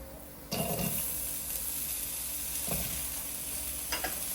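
Chili and garlic hit a hot pan for a canned-fish chili paste, a sudden steady sizzle with stirring scrapes and a couple of sharp utensil knocks, close and continuous, with no voices.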